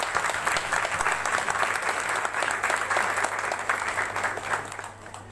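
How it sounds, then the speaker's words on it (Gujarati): Audience applause at a World Milk Day celebration in Surat, a loud, dense wash of many hands clapping steadily throughout and easing slightly at the end. "આપણે સોનાલીને ખૂબ તાળીઓથી વધાવી લઈએ."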